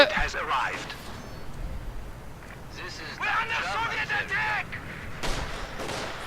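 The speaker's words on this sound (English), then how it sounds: "Mortars providing a nasty mortar battery" Mortar battery fire in a Company of Heroes match, with repeated muffled booms and blasts scattered through a busy battle mix while a commentator talks over it.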